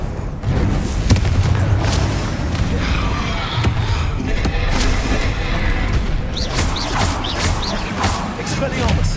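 Repeated booming blasts and crashes from Confringo explosion spells cast in Hogwarts Legacy, mixed with other spell effects and game sounds, dense and loud throughout with a voice calling out over them.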